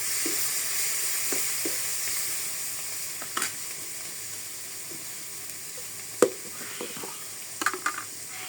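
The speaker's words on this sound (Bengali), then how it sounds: "কুচানো কাঁচামরিচ দিয়ে দেব" Chopped green chillies sizzle in a frying pan, a soft continuous hiss broken by a few sharp clicks of a utensil against the pan, close with no talk.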